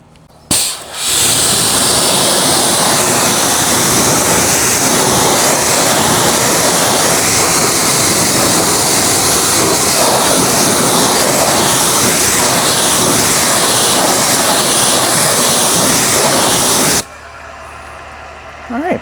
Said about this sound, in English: Now due for a quick rinse.